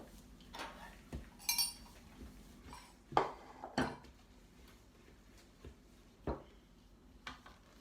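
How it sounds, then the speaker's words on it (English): A spoon stirs oats and raisins in a bowl for apple flapjacks, giving sparse, quiet clinks and scrapes that come in irregular bursts, with stretches of near silence between them. "we'll add those in and Rosa can give them a stir"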